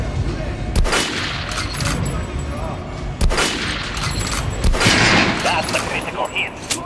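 Rapid gunfire in the video game Metro: Last Light Redux aimed at armored enemies, with loud volleys and sharp individual shots over a constant background din.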